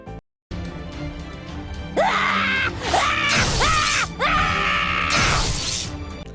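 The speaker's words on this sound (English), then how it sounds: "they nerf her scream after first release" Frankenstein, a character in the video game Fate Grand Order, lets out strained, high-pitched screams in several loud, wavering bursts with short gaps between them, sounding close and harsh.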